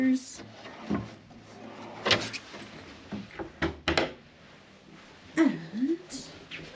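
Cabin drawers on the Anthem of the Seas cruise ship slide open and shut several times, with close, hollow thuds and knocks spaced irregularly across the moment, plus a brief squeak.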